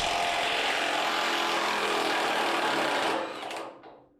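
Milwaukee cordless impact tool loosening a 24 mm frame bolt on a Duramax truck frame, a loud sustained whirring burst that winds down and stops near the end, close by with no talk.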